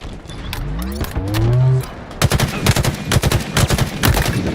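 Gunfire in a Halo multiplayer match, a rapid burst of close, loud automatic shots in the second half, after a low rising mechanical tone.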